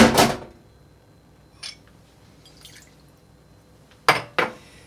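Fifteen milliliters of lime juice is poured into a cocktail cup over ice, giving a short liquid splash at the start, a faint drip or two, then two brief clinking, splashing bursts near the end, close and without talk.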